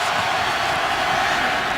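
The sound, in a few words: stadium crowd noise at Arrowhead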